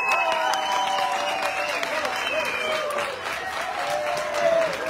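An audience at a town-days folk music recital in Sângeorz-Băi, Romania, claps and cheers continuously for five seconds. The applause is loud, even and sustained, with scattered shouts woven through it.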